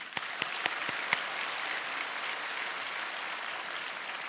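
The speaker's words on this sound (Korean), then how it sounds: "소망부 박수 한번 드리십시다." A congregation applauds during a church sermon: a steady, moderately quiet wash of many hands clapping, with a few louder individual claps standing out at the start, sustained throughout.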